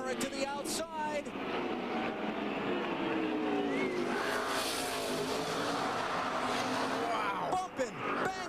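NASCAR stock cars roaring through the final corners at Martinsville, a loud, continuous engine howl with rising and falling revs as the pack bumps along, under excited commentary.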